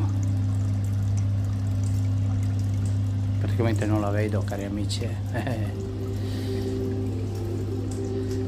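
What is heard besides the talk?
running water in a dark convent nativity scene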